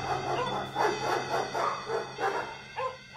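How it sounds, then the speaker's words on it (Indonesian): Dogs heard at a moderate distance in a horror story scene, giving several rising, wavering calls one after another with a repeating pulse, mixed with fainter barks and yelps. "Selena dan Josefina sering mendengar suara lolongan anjing"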